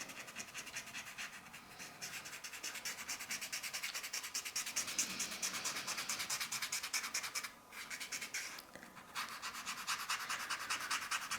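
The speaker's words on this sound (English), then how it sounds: "So scrubbing that in." A pastel pencil is scrubbed into paper in quick, close back-and-forth rubbing strokes, a continuous scratchy rasp with one brief pause, no voices.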